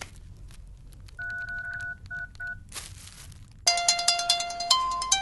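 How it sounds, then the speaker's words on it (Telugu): A telephone number is keyed in with a run of clear DTMF tones, three short beeps then a pause and more, followed by a burst of noise and a busier stretch of ringing, layered tones at the end. "ఫోన్ ఈ నంబర్ కొట్టి తెలుసుకుందాం"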